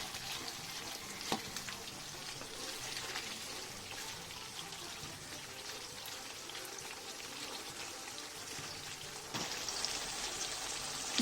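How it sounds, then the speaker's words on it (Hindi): Marinated beef stir-frying in hot oil in a pan, a faint, steady sizzle and crackle without pause, briefly rising louder near the end. "ऑयल लेंगे क्योंकि हमें अपनी इसको थोड़ा सा स्टर फ्राई करना है, जो मैरिनेशन हमने करके रखी थी।"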